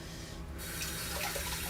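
Tap water runs steadily into a kitchen sink as chickpeas are rinsed, a close, continuous hiss and splash that brightens partway through with no voices.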